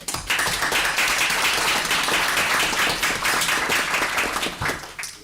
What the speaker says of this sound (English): Would you stand so we could give you a round of applause?